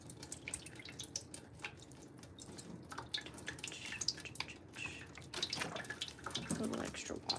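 A potted plant is watered after repotting, with dripping and trickling water close by, uneven and soft, growing busier toward the end while someone talks faintly.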